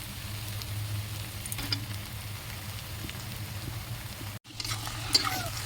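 Chicken frying in hot oil with ginger and garlic paste: a soft, steady sizzle and hiss that runs throughout, with a few faint clinks and a brief dropout near the end.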